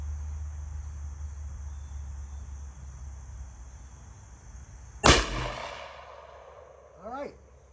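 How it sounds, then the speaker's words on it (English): A single close, loud gunshot from a Rossi Tuffy .45/.410 shotgun fired at a target outdoors, a sharp crack about two-thirds through with a brief ringing decay, after steady insect buzzing and a low hum; a short chirp follows. "I'm going to shoot the upper left-hand corner."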